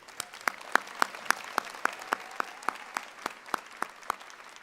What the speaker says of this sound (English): Graduates, I ask you to give them a round of applause.